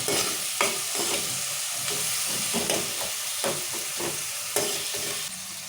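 Gokarakaya curry with tomatoes stirred and fried in a pan, with a steady sizzle throughout and repeated scraping strokes of the spoon, close and fairly loud, with no talking.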